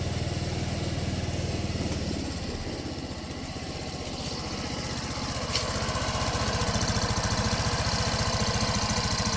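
A Kanuni Trodon SX 125cc motorcycle engine runs steadily close by, its rapid putter dipping briefly and then picking back up.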